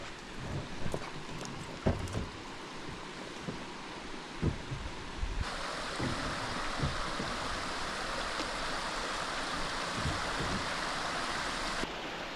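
A waterfall on an Ozark river gives a steady broad rush that swells noticeably louder partway through, with a few nearby knocks and rustles on top and no speech.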